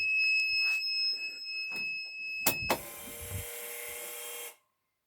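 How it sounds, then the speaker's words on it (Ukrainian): A steady high electronic beep sounds continuously as a vehicle's battery power is switched on, then a sharp click and a louder buzzing tone that holds for about two seconds before cutting off abruptly. "я вмикаю масу, пищалочка повинна пищати"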